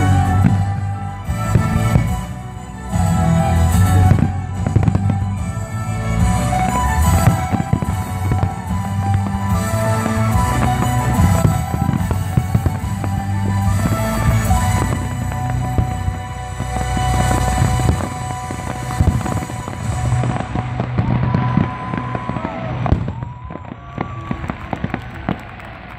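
Fireworks display at Global Fest 2016, a festival show, with dense continuous booms, crackles and bursts layered over one another, loud and sustained throughout, fading slightly near the end.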